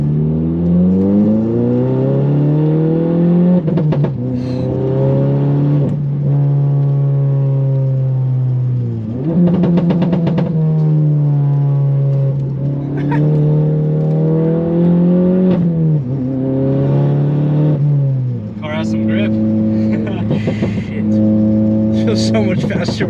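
A modded Volkswagen GTI accelerates hard on back roads, engine revving up through gears with repeated shifts, loud and close from inside the car, with occupants talking over it.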